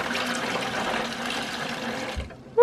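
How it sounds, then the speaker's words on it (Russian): Water pours steadily into a container in a home kitchen, a close, continuous filling splash that cuts off abruptly near the end. "я, к слову сказать, до сих пор тихонечко кайфую от того, как в него наливать воду"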